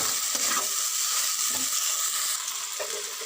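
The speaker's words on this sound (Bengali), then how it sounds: "নাড়াচাড়া করে একটু কষে নেব মশলার সঙ্গে" A fish head fries with spices in a pan while being stirred, a loud, continuous close sizzle with soft scraping stir strokes throughout and no speech.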